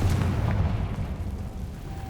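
A Confringo fire spell exploding in Hogwarts Legacy, one loud heavy blast with a deep rumbling body that fades slowly over two seconds.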